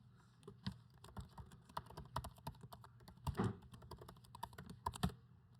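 Password typed on a computer keyboard, quick uneven key taps and a heavier press or two, close but faint, with no talk.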